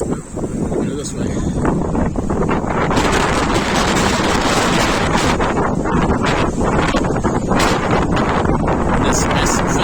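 Strong outdoor wind buffeting a microphone beside a large physics building, a loud continuous roaring rumble with gusty surges, heard while cycling.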